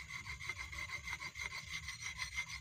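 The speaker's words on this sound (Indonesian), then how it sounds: "Ini ada teman-teman mengasahnya, digosok-gosok biar asik teman-teman" A rubber tapping knife being sharpened by rubbing it back and forth on a stone, giving a quick, rhythmic rasping scrape that repeats steadily at close range.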